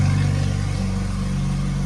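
Close, loud idle of a straight-piped Porsche GT3, a deep steady burble with a fast uneven pulsing throb and no voices.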